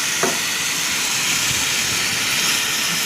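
A fish mixture poured into a wok of hot oil sizzles in a loud, continuous hiss, close and steady throughout, with no voices.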